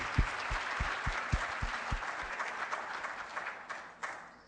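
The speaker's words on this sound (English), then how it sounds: "I would like to actually give them an applause and thank you for their excellent job today" An audience at a meeting of Arab country delegations applauds, a few louder individual claps standing out over softer crowd clapping that trails off.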